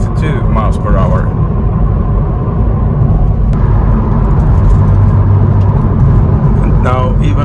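A BMW Z4 3.0-litre cruising on a highway at about 62 mph, its engine and road rumble forming a loud, steady low drone heard from inside the car, with someone talking over it.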